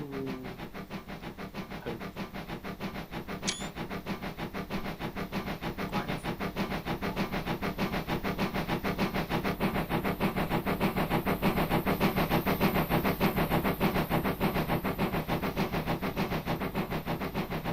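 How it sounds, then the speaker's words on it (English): A steady, rhythmic chuffing beat from a steam engine drawing nearer, growing gradually louder over a continuous low mechanical rumble with no voices present. "Casual chuffing beat of an engine approaching."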